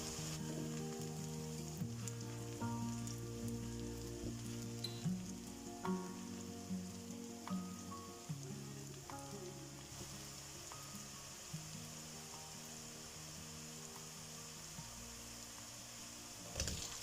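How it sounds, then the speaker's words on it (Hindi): Finely chopped onions, two medium ones, frying in oil for a mixed vegetable sabzi, giving a steady continuous sizzle throughout, with soft scraping stirs and occasional clinks of a utensil against the pan; no talking. "अब इनको मैं फ्राई कर रही"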